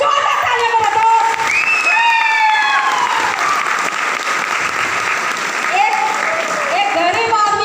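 An audience at a Safeshop direct-selling event applauds loudly and steadily throughout, with crowd noise and cheering; a voice speaks briefly over the clapping.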